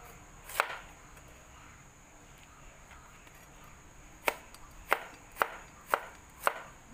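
Knife chopping tofu on a cutting board: one sharp chop early, then after a pause a run of five evenly spaced, crisp chops, close and distinct over a quiet kitchen background.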